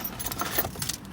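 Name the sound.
bunch of house keys jangling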